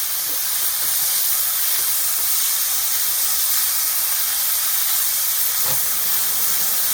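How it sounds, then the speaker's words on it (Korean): Beef with shiitake mushrooms stir-fried in a pan for japchae, giving a steady, fairly loud broadband sizzle and hiss with faint scraping throughout, no voices. "다글다글 볶아주세요."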